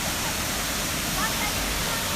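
Ilıca waterfall at Pınarbaşı, Kastamonu, gives a steady, even roar of falling water that holds without a break for the whole stretch.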